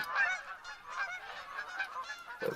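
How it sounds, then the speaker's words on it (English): A flock of geese honks continuously, many overlapping calls blending into a dense, clamorous chorus at moderate distance. "Geese absolutely everywhere."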